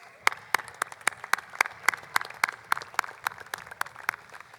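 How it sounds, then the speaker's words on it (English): Steady, evenly spaced clapping from a modest crowd at an outdoor Armed Forces Day parade as the Coast Guard auxiliary vessel Golden Sea Ray passes, a distinct clap roughly every quarter second. "Give them a round of applause as they pass."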